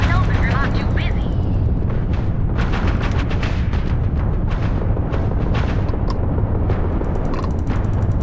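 Sustained sci-fi gunfire in Starfield near a Constellation vessel, rapid overlapping shots and bursts over a constant roar, with a voice speaking briefly among the blasts.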